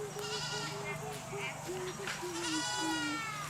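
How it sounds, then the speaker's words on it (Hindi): A goat bleats repeatedly in an orchard, giving a series of short wavering cries in quick succession, fairly close and clear, while people talk faintly in the background. "अरे बा ये बकरी काकर गाछी में घुस गया हैं"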